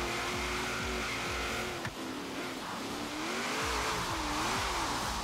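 Racing cars in Forza Horizon 3 roar steadily through the run, engine pitch rising and falling with gear changes and a brief mid-clip jolt, loud and continuous with no talk.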